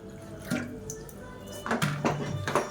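Water is poured in small amounts into a radish and lentil dough for kola urundai, giving soft splashes and trickles in short bursts at close range.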